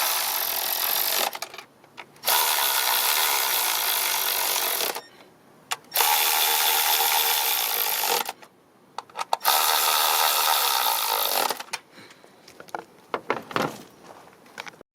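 A ratchet tightens a spark plug coil bolt on a 2012 Kia Sportage engine, rapid clicking bursts of several seconds each separated by short pauses, close and fairly loud.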